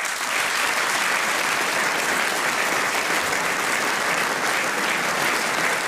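A large audience at a regional sports awards gala breaks into dense, steady applause that stays loud and even for several seconds, with no talk over it.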